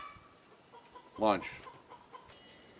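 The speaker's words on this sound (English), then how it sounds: "Well, that hen is in the way." A hen gives a single short cluck close by amid quiet farmyard background, with a brief spoken word nearby.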